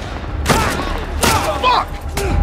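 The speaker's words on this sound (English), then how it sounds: "Where are those shots coming from?" Gunfire in The Last of Us Part 1, several sharp bursts spaced roughly a second apart, loud and close, with shouted voices in between and a steady rumbling background.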